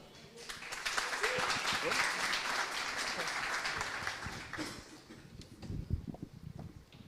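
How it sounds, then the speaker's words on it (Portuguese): A conference audience breaks into applause for a speaker at a Symfony tech talk, a dense steady clapping for about four seconds that then fades into scattered claps and voices. "Salva de palmas para o Elton."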